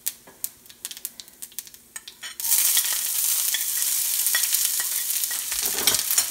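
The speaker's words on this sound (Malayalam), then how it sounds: "കടുക് പൊട്ടി വരുമ്പോൾ നമുക്കതിലേക്ക് കുറച്ച് ചെറിയ ഉള്ളി അരിഞ്ഞത് ചേർത്ത് കൊടുക്കാം." Chopped small shallots are dropped into hot coconut oil with popping mustard seeds. Scattered ticks and pops come first, then a loud, steady sizzle that continues close by to the end.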